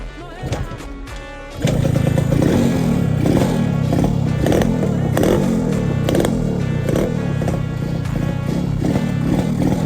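A Yamaha RX King two-stroke motorcycle gets going: after a brief quieter moment its engine bursts in loud and close, holding a raspy, buzzing drone with rough, crackling edges throughout.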